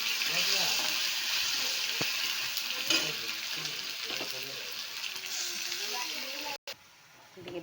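Cumin seeds sizzle in hot oil for a dal tarka, a steady broad frying hiss that runs close and fairly loud throughout, with faint clinks and stirring under it and a brief dropout near the end.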